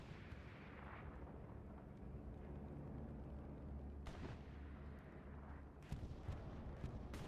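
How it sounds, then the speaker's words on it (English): A bombing run in Hell Let Loose: a low, constant rumble of distant bombardment in a wartime match, with a few sharper blasts and cracks jumping out near the middle and toward the end. "Here comes a bombing run."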